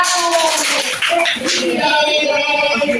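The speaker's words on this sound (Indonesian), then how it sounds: "kita kasih tepuk tangan untuk kelompok 1" A classroom applauding a student group during a microteaching practice session, brisk clapping from many hands mixed with talk and shuffling noise, close and steady for the whole stretch.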